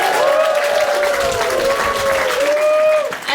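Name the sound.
applause at wedding ceremony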